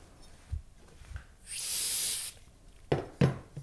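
A spray bottle gives a single sustained hissing spray lasting under a second onto degreased enameling metal, with soft handling clicks and taps before and after it.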